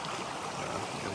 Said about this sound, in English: Made it to the final creek crossing.